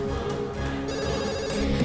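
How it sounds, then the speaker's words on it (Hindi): Telephone ringing loudly and continuously, a dense electronic trill that fills the short moment, close and steady with no voices over it. "daddy please pick up the phone"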